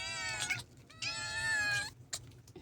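A mother cat meows in two drawn-out, fairly close cries, followed by a short softer chirp, with faint background rustle and no speech.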